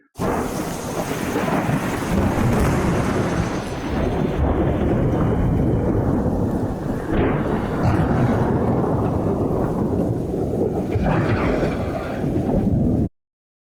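Heavy thunder rolls in a long, continuous rumble with rain, loud and close, slowly easing toward the end before cutting off abruptly.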